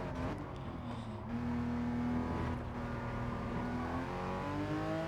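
Porsche Cayman GT4 in Gran Turismo 7 at the Nürburgring pulling slowly out of a corner, its engine note rising steadily in pitch as it accelerates, continuous and fairly loud with no talk over it.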